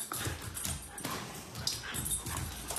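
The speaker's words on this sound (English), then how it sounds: "as you can see, it's just one little puppy" A single small puppy plays nearby, giving soft whimpers and scuffling movements in a steady, close sequence with no talking.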